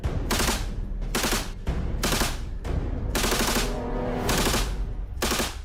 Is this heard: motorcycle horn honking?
no